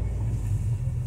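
Cars idle and creep through congested Saturday traffic in the city centre of Campos dos Goytacazes, Brazil, a steady low engine rumble from nearby vehicles with no voices heard.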